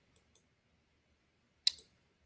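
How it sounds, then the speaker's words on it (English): Faint computer mouse clicks: two tiny light ticks, then a sharper, louder double click, close-up against near silence. "I'm just going to right click"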